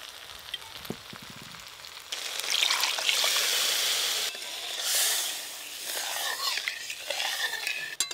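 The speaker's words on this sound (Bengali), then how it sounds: "মশলা ধুয়ে জলটাও দিয়ে দেবো।" Water used to rinse ground spices is poured into a hot pan of frying tomato masala, producing bursts of loud sizzling and splashing that rise and fall over several seconds.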